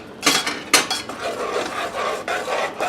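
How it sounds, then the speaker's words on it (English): A spoon scrapes and clinks against a saucepan as a sautéed vegan scallop mixture is scooped into sauce, giving a few sharp metallic knocks followed by softer rubbing and stirring. "I'm going to grab my little extra spoon, and we're going to scoop all of that goodness that we sauteed together into this sauce"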